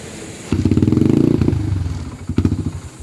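A Motorstar 100 motorcycle engine putters unevenly, rising then sputtering down and faltering, with a few sharp clattering knocks as it struggles to keep running.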